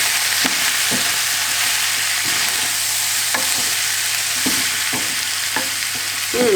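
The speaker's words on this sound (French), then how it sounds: "Il faut mélanger et faire dorer légèrement les légumes." Vegetables stirred and lightly browned with a spice mix in a frying pan, a steady sizzle running throughout with repeated scraping strokes of the spoon, close and alone without talk.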